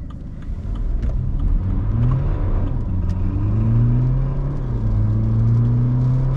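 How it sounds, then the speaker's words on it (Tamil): A modified BMW 3 Series fitted with an M3 body kit pulls away hard in sport mode, its engine note rising steadily through the gears in a loud, continuous surge heard from inside the car. "இப்போ நான் வந்து உங்களுக்கு ஆக்சலரேட் பண்ணி காமிக்கிறேன்"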